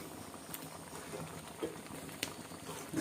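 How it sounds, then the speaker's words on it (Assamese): Assamese-style chickpea dal (boot dal) simmering in a pot, a quiet, steady bubbling with soft irregular pops, heard close up for a few seconds. "এইখিনি মোৰ বুট দালি উতলি আছে,"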